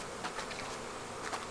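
Honeybees at the entrance of a weak hive, a faint, thin buzzing with a few passing bees briefly swelling louder.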